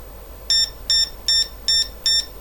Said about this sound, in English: The next thing we can look at is the sounder